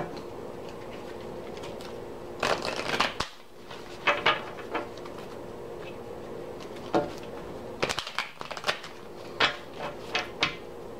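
Tarot deck being shuffled by hand, close bursts of riffling card flutter and soft slaps repeated several times in quick clusters.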